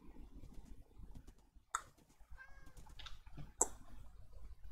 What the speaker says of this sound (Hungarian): Szia, macska!